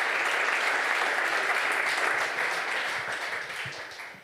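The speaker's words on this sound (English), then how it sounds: "Give him a hearty applause" Hearty audience applause at a physics symposium, a thick wash of clapping hands that holds steady and then slowly thins and fades toward the end.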